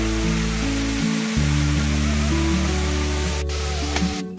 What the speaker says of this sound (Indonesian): Air terjun Mintana.